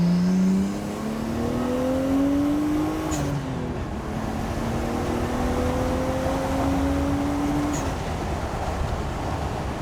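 A Nissan R34 Skyline engine climbs in pitch under throttle, drops back, then revs up again and holds, loud and close, with a couple of sharp ticks along the way.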